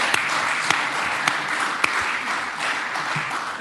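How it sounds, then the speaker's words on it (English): An audience at an annual general meeting gives a round of applause, a steady, even wash of many hands clapping at moderate volume, with a few sharper individual claps standing out. "So a little round of applause to everyone who put that together."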